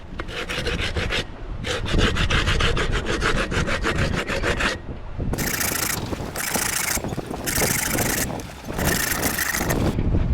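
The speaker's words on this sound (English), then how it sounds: "So I brought up some sandpaper and a flat sanding board." Rhythmic rasping strokes of sandpaper on a flat sanding board rubbing wood on a boat, fast back-and-forth scraping in bursts separated by short pauses, close and loud.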